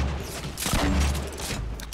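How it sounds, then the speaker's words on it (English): Grenade blasts in a Fortnite Battle Royale match: a dense stretch of booming explosions and rumbling impacts that rises to a heavy thud midway, then settles into steady background din, with no voices. "It's literally a war of grenades right now."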